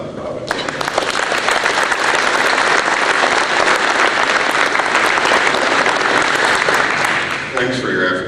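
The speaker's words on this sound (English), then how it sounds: "And so how about a round of applause for Bob and Bob?" Loud, sustained applause from the crowd at a high school gym dedication ceremony, filling the room for about seven seconds before it tapers off and a voice begins.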